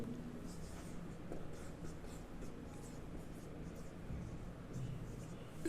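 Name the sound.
writing on a board during a lecture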